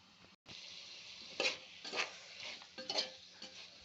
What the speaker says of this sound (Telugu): అడుగు మాడకుండా ఇట్లా కలుపుతూ ఉండాలండి